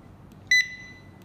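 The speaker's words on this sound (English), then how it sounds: "You can hear the beep sound," A Henex Bluetooth barcode scanner gives a single short, clear electronic beep as it pairs, bright and close over faint background hum.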